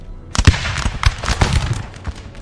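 A ragged musket volley from Confederate infantry in the Napoleon Total War American Civil War mod, fought in thick woods at Chickamauga. It comes as a loud burst of many overlapping cracks and pops spread over about two seconds.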